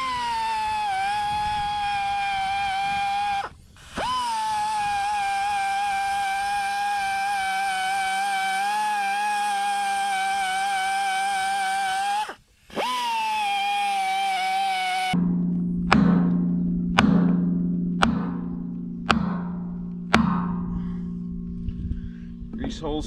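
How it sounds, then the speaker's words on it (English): A flap wheel grinds the bores of a hydraulic thumb main pin with a steady, loud, whining tone and two brief pauses, then gives way to a run of sharp, evenly spaced knocks. "A little flap wheel action there."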